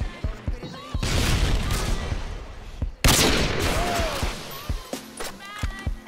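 Loud gunfire bursts from a Call of Duty MW2 match in search and destroy mode: a sustained rattling volley, a short gap, then another heavy burst with scattered single shots, under occasional talk and game announcer lines.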